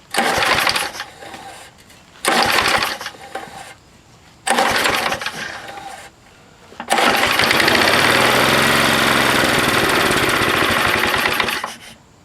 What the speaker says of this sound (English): Let's see if this engine starts.